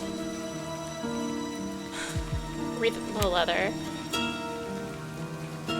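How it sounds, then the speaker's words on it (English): Soft, steady rain falls in the video game Livber: Smoke and Mirrors, a gentle patter beneath sustained musical tones and occasional sound effects, while a voice speaks briefly over it. "The raindrops fall on the paper, landing with soft patters."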